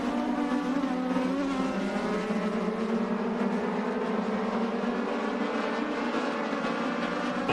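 A pack of race cars at Irwindale Speedway roars steadily through a restart in a three-lap shootout, engines droning loud and continuous with rising pitch, no talk heard.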